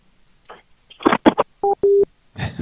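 Telephone tones sound after a call is hung up: a few short tonal beeps, then a steady held tone for about a quarter second, followed by a burst of noise, all fairly loud and close with no talk.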